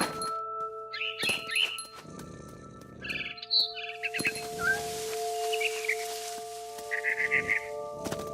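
A barn swallow chirps near a nest in the video game What Remains of Edith Finch. Short bright tweets come in scattered bursts over a steady hum of ambient game sound, with soft thuds and clinks between them.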